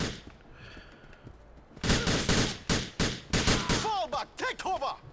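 Gunfire in Grand Theft Auto 4: after a quiet opening, a rapid cluster of loud, sharp shots rings out with short gaps, close by, and a voice speaks briefly among them.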